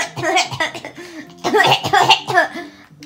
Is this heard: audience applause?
no